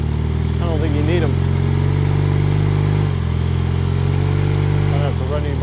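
A 1978 Honda CB400A Hondamatic motorcycle on the move, its engine humming low and steady with brief rises and falls in pitch. Riding it sounds smooth and loud, with a voice speaking over the engine.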